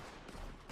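Red Dead Redemption 2 gunfight with a rapid, dense burst of machine gun fire, loud and sustained through the short moment, with no talking.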